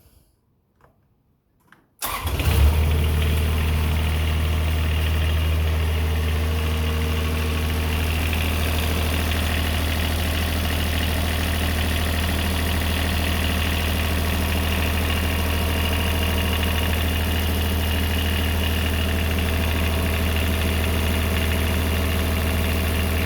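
A brand-new engine in a Kubota RTV 900 utility vehicle cranks after a few faint clicks and fires up, then settles into a steady, loud, even idle that continues with no voices.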